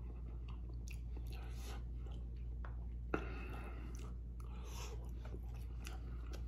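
Close, steady chewing and biting on chili cheese fries, moist crunches repeating over a constant low hum, with one sharp click partway through.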